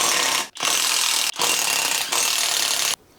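Ratchet undoing the brake disc bolts on a Mercedes-Benz 123 during a front brake overhaul, dense rapid clicking in three long runs broken by brief pauses, loud and close with no talking.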